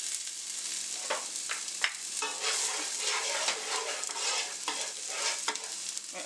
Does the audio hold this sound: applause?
no